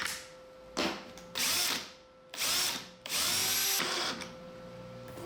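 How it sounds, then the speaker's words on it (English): A power drill driving screws into bristle strips on a CNC dust shoe, several close whirring bursts with short pauses between them as each screw goes in. "punched a hole, pre-drilled, and drove a screw until I had it all around"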